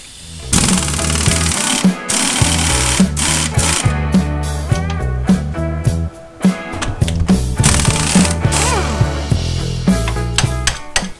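Power tool loosening the steering knuckle bolts on a Subaru during a coilover lift install, loud and continuous with repeated short bursts and rattling impacts, no talking.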